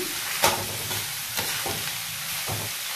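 Onions frying slowly with turmeric and salt in a pan, for a spicy mutton curry: a soft steady sizzle, with a few louder stirring scrapes and clatters at intervals.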